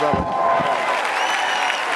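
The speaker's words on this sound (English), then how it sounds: "Give them a real Five Links round of applause to all the new family members getting started." An audience at a Five Links gathering for new members claps in a dense, steady round of applause, with a voice speaking over it.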